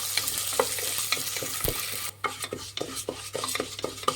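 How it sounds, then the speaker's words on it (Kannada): A cup of moong dal fries in oil for khara pongal, with brisk, close scraping and stirring strokes over a loud, continuous sizzle. "ಇದೊಂದು ಸ್ವಲ್ಪ ಹಸಿ ವಾಸನೆ ಹೋಗೋವರೆಗೂ ಎಣ್ಣೆನ ಫ್ರೈ ಮಾಡಬೇಕಾಗುತ್ತೆ."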